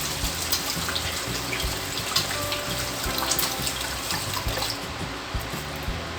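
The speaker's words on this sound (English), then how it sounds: "I'm washing my hands." Hands are washed under a running kitchen tap, water splashing steadily and close by for several seconds.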